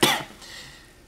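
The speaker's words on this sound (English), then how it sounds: "I've been coughing a lot lately." A single sharp cough from one person, close and loud, bursting at the start and then trailing off quickly with a brief breathy tail.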